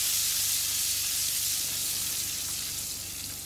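Garlic paste frying in hot oil with cumin and cinnamon, a close, even sizzle and hiss that runs unbroken and fades slightly toward the end, with no talk.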